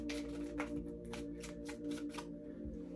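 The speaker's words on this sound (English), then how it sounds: "I'm gonna keep shuffling" A deck of tarot cards shuffled by hand at close range, a steady run of soft riffling and slapping card sounds repeating in quick bursts, quiet and with no talk over it.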